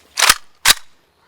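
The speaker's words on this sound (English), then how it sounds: "There's artillery fire today." Two sharp, close gunshot-like cracks, evenly spaced about half a second apart, in a hot combat zone near Donetsk airport where artillery fire is ongoing.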